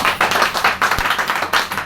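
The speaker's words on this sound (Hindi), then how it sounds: "जोरदार तालियां" An indoor audience at a product training event claps in dense, rapid applause, many hands patting together in rippling bursts that swell and dip throughout.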